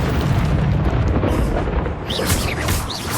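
A Confringo fire spell blasts in the Hogwarts Legacy video game, a loud continuous roaring burst of explosive noise with rumbling low end and crackling debris throughout.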